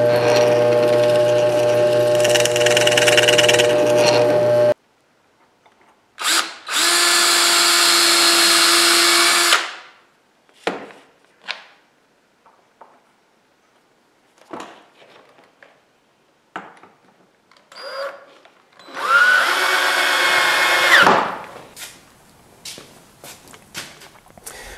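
Power drill driving screws into distressed barn siding for a shoe stand, several loud whirring bursts of a few seconds each, separated by quiet handling knocks and clatter.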